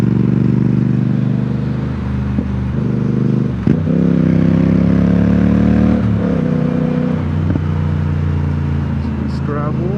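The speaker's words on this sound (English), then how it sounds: "Love the low end torque of this bike." A Triumph Speed Twin motorcycle engine drones loud and steady while riding, held in fourth gear with shifting throttle swells and gravel under the tyres, plus a brief clatter midway.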